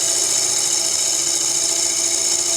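A bowl gouge cuts wood on a spinning lathe, making a loud, steady, close whirring hiss with a constant pitch and no breaks, and no voices over it.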